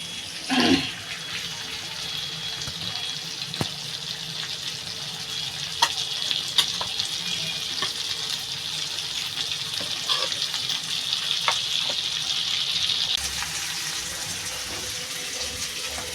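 Cumin seeds tempering in hot mustard oil in a wok, a continuous crackling sizzle with small pops and spits, close and steady for the whole stretch.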